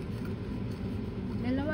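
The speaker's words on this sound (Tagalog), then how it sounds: "may naandar na bangka." Steady low engine drone of a motorboat running nearby, with a rising whine near the end and background murmur.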